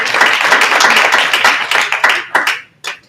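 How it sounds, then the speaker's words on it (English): Applause for Chase Bank at a small-business banking and finance event, loud close clapping from a modest audience that fades into a few scattered final claps. "So let's give them a round of applause,"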